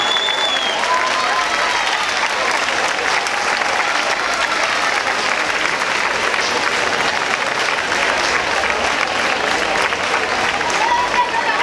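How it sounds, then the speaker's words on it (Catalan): Loud, dense applause from a crowd at a street-decoration awards ceremony during a neighbourhood festival, a sustained, even roar of clapping for the whole stretch with a few voices mixed in. "Moltes felicitats, un fort aplaudiment!"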